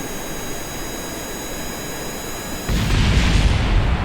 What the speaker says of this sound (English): kick the throttle to maximum, and fire off the engines.